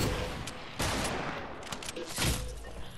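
Gunfire in Fortnite, loud rapid bursts of shots coming in quick clusters, dense and close, with no talking.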